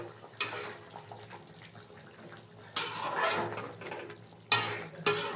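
Fried rohu fish pieces go one by one into a boiling fish curry (jhol), giving several sharp splashy sizzling bursts with light utensil clinks between quieter bubbling.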